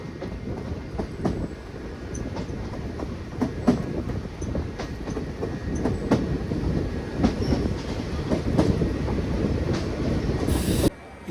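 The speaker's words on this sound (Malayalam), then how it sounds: "വഞ്ചിനാട് പിടിച്ച അതേ പ്ലാറ്റ്ഫോമിലാണ് നമ്മുടെ ഗുരുവായൂർ മധുര എക്സ്പ്രസ് കയറുന്നത്." The Guruvayur–Madurai Express train at Kayamkulam platform, a steady loud rumble with rhythmic clickety-clack of wheels over rail joints continuing throughout, close by and with no talk.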